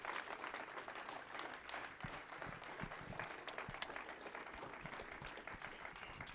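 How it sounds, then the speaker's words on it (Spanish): Congregation applauding for Christ during a Spanish-language church sermon, a steady dense wash of clapping that fills the whole moment with a few louder claps standing out. "Démosle un fuerte aplauso a Cristo"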